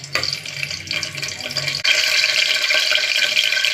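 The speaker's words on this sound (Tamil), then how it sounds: "சூடாயிடுச்சு சட்டி, எண்ணெய் ஊற்றிக்கிறேன்" Oil pouring into a hot pan on a home stove, starting with a low pour and then breaking into a loud, steady sizzle that fills the rest of the clip.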